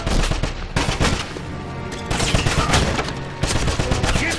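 Dense, loud gunfire fills a Wolfenstein PC first-mission battle, with rapid bursts of automatic weapons and shots overlapping continuously as suppressing fire, punctuated by heavier booms throughout.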